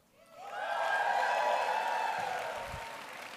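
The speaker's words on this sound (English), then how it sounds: "Cheer if you own a pet." A college-day audience of pet owners lets out a cheer that swells within half a second into a sustained, roaring shout with some clapping, then slowly tapers off.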